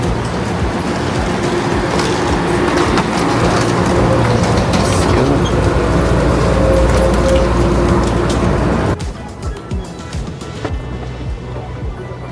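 Incheon Airport AREX express train ride, a loud steady rumble of the carriage in motion that cuts off sharply near the end, leaving quieter scattered sounds.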